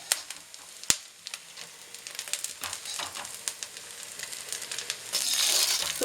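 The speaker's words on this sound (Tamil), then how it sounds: "பட்டை 3 போட்டு எண்ணெயில் வறுத்துட்டு தேங்காயை போட்டு வறுத்துக்க வேண்டியதான்" Fennel seeds, cloves and cinnamon fry in hot oil, a close, steady crackling sizzle with scattered sharp pops, swelling into a louder hiss near the end, with no talk.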